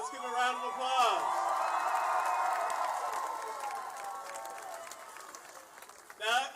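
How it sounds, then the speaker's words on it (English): Audience applause and cheering at a high school celebration honoring an alumnus, a steady crowd wash of clapping with some whoops lasting several seconds before tapering off. "let's give him a round of applause."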